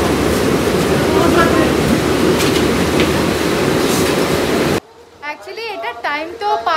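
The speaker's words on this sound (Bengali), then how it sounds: "ট্রেনে উঠে গেছি, দেখো পুরো ফাঁকা ট্রেন" Rumbling interior of a moving, nearly empty train, with steady loud rail noise and clatter that cuts off abruptly, followed by a person talking over quieter background.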